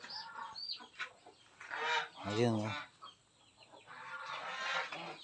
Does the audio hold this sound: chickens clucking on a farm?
yes